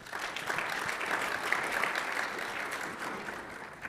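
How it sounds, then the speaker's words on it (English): A conference audience gives the speakers a warm round of steady, moderately loud applause that holds evenly throughout, with no talking over it. "Please give them a warm round of applause."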